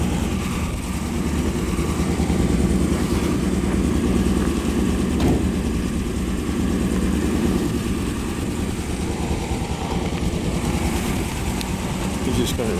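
A 1957 Ford Fairlane 500 engine running steadily, a loud continuous rumble that holds an even note throughout, close by, with no clear voices over it.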